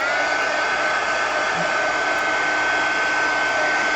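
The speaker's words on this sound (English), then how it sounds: "Okay, let's dry. Where's my heat gun?" Steady loud blowing roar of a heat gun drying tissue paper on an art journal page, running continuously and close with no talk over it.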